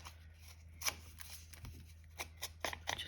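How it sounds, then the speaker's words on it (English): Paper is torn by hand into strips for layered page edging, giving a series of quiet, short ripping and rustling bursts that come irregularly and close by, with no talking. "So I'm going to tear up some paper"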